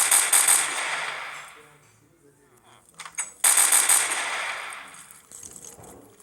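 Rapid automatic gunfire in a shooting video game, two loud bursts separated by a quieter gap, with a person talking over the action.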